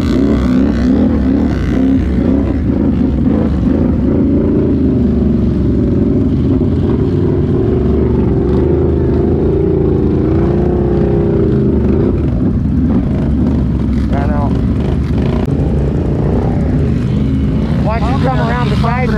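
A 2023 Can-Am Renegade ATV stuck deep in mud roars at steady high revs, loud and continuous, with shouting voices over it and a few higher whines near the end.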